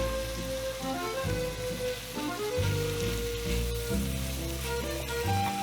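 Winter warmer food with cabbage sizzles in a pan while being stirred, a steady frying hiss with tonal background music and occasional clunks of the spoon, fairly close and moderately loud.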